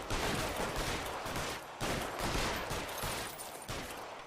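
Several guns fire at once in the 1940s crime game L.A. Noire, including a Tommy gun, making dense overlapping bursts of gunfire in rapid volleys with short gaps between them.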